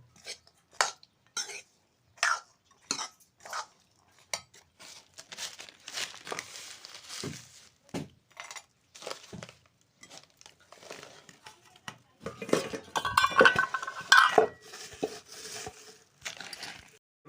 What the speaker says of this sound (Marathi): हलवून घेतोय